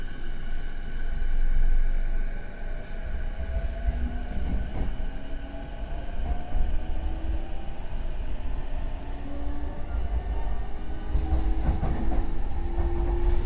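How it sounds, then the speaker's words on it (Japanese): A Saikyo Line train runs alongside the Shinkansen tracks, producing a steady close rumble of wheels and carriages with a rising, drawn-out tonal whine and faint wheel squeal throughout. "新幹線と並行する埼京線の走行をお楽しみください"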